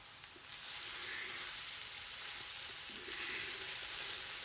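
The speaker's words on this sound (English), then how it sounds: "I'm going to stir them around and flatten them out some" Hash brown potatoes sizzle steadily in an oiled pan, a continuous close frying hiss broken by soft scraping and stirring strokes as they are turned and flattened.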